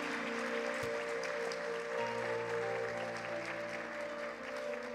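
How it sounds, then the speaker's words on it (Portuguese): A church congregation at a Sunday service applauds: steady, dense clapping from a large crowd throughout, with a sustained musical tone underneath and faint voices. "Ninguém aplaude aqui?"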